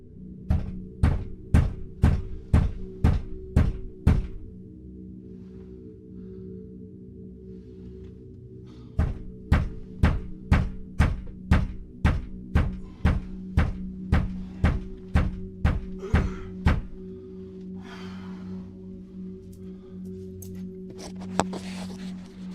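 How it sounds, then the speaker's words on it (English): Sharp knocks bang on a bedroom door in rapid bursts, several rounds of repeated thuds separated by short pauses, close and loud. "Just had some banging on bedroom door."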